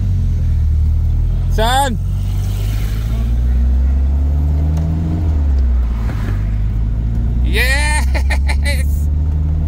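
A project car's engine revs loudly through gear changes on its first test drive, a steady low drone rising and falling in pitch across the run, with someone talking in short bursts over it.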